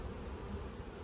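Honey bees swarming around an opened hive during a split, a soft, steady, continuous drone of many wings with no voices, faint and even throughout.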